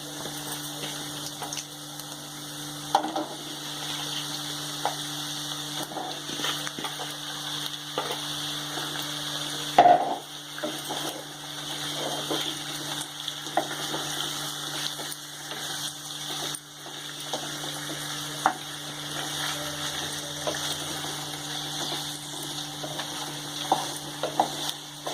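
Chicken pieces dropped into hot oil with onions for a spicy green chicken gravy, giving a steady close sizzle and frying hiss with occasional stirring clatter, no voices.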